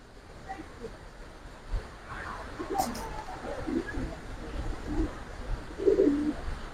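Indian giribaz pigeons coo in soft, scattered bursts, fairly close, with low background noise and a few faint chirps between calls.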